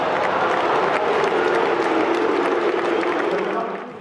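A large football crowd at a Birmingham City match roars and jeers in a dense, loud, sustained wash of voices, with booing mixed into the noise and fading slightly toward the end.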